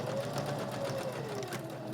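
A sewing machine stitches a fabric lanyard, its fast continuous whirring and rapid needle rhythm steady and close throughout a short run with no talking.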